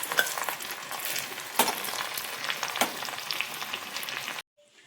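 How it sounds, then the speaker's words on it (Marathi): Hot tadka of mustard seeds, crushed garlic and red chili poured into dal khichdi, a bright crackling sizzle with a few sharp spoon clinks against the pan, ending abruptly in silence. "खिचडीमध्ये तडका टाकून घेऊ।"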